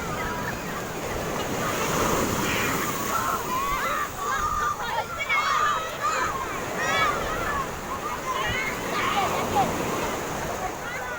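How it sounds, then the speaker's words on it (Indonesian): Large ocean waves at a beach, a continuous roaring surf washing in and out under buffeting wind noise, with people talking and calling out over it. "ombaknya terlalu besar"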